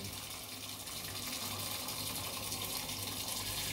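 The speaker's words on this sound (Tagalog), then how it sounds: "Lagyan na natin ng tubig." Water pours into a cooking pot holding pork hock for nilaga, a soft, steady gushing stream heard close and fairly quiet throughout.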